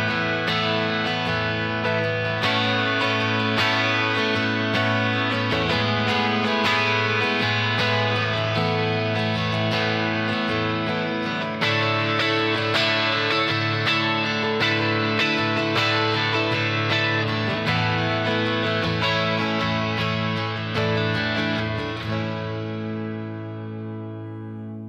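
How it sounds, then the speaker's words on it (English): Burns Double Six 12-string electric guitar on its neck pickup, clean with a touch of delay, strummed chords ringing full and steady for about twenty seconds before decaying, no talk. "so let's have a listen to the neck pickup on its own."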